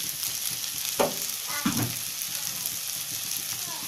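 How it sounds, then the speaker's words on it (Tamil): Tomatoes and onions sauté in a pan, a constant soft sizzle broken by a couple of louder stirring scrapes near the start, close and fairly quiet. "தக்காளி வெங்காயம் நல்லா வதங்கிடுச்சுங்க"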